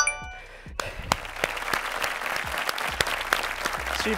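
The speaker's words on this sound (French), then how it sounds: "On vient s'applaudir" A small group applauds after a martial arts training session, a burst of scattered, close clapping that starts abruptly and continues steadily, with no talk over it.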